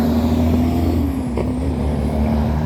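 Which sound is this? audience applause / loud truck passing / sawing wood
loud truck passing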